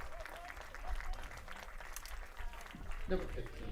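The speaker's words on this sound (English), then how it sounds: "Big round of applause in the crowd for the Palomar softball team that just showed up here." Scattered crowd applause in the stands at a college baseball game between Palomar and San Diego Mesa, moderate and ongoing beneath a commentator's talk.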